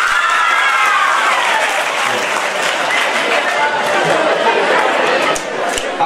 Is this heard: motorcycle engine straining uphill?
no